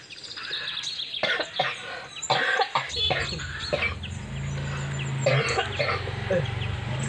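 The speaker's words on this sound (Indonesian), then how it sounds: "Jadi batuk kieu dong" Coughing fits bursting out in a comic Sundanese short, rough and uneven, mixed with clucking-like rasps and a low steady hum underneath, fairly close and loud.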